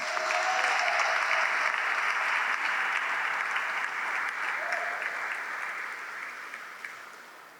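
Steady audience applause in the Rotunda for an honoree at an Italian Heritage award ceremony, a dense wash of clapping that fades gradually over several seconds.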